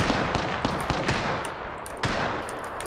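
Video game gunfire, rapid bursts of sharp shots crackling in quick irregular succession throughout, loud and dense with occasional heavier cracks, no speech.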